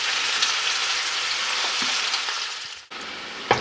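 Onions, carrots and celery sweat in a skillet with a steady, close, loud sizzle and crackle, briefly interrupted by a short dip as if the pan is moved, then resuming.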